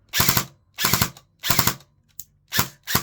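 A Specna Arms X-Series airsoft gun fires five short, rapid bursts in sharp clattering volleys, separated by brief silent gaps and heard up close with no voices.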